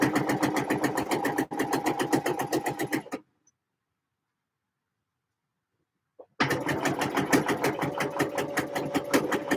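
A home sewing machine stitches in fast, steady rhythmic bursts, runs for about three seconds, stops for a few seconds of silence, then resumes at the same quick pace, close and clear.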